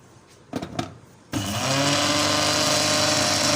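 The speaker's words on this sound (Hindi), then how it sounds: "ये थोड़ी मोटी है, अभी थोड़ा 1 मिनट और पीसेंगे।" An electric grinder pulverizes seeds and melon kernels for thandai, starting after a few short bursts, then roaring steadily and loudly at high speed without pause.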